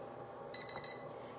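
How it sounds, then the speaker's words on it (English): An air fryer gives a short run of bright electronic beeps, three or four quick tones in a row, clear and fairly close against a quiet kitchen background, alerting that it is time to add the chicken wings or potatoes. "It doesn't do anything, it just sits there and waits for you, but it's gonna keep beeping."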